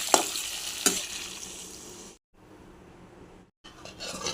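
Whole cumin and chopped onion frying in a pan with salt and spice paste for a raw-mango katla fish curry: steady loud sizzle with two sharp clatters of stirring, a sudden silent break, then the sizzle returns.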